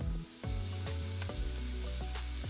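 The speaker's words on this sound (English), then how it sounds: "So while my shrimp is frying," Shrimp frying in coconut oil in a pot, a steady close sizzle with a few clinks of a utensil over the top.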